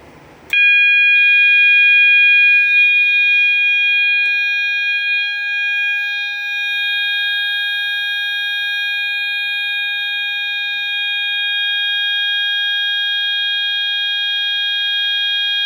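A bedroom fire alarm tested with a magnet: a loud, steady electronic tone that starts abruptly and holds continuously without breaks, close by.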